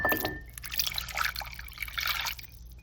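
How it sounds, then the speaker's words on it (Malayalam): One cup of boiled hot water poured into a pineapple jello pudding mix, with a soft steady liquid trickle that starts with a brief splash and then runs on quietly and close for nearly three seconds, no talking. "ഇതിപ്പോൾ നമ്മൾ വൺ കപ്പ് ഹോട്ട് വാട്ടറാണ് മിക്സ് ചെയ്യാൻ പോകുന്നത്"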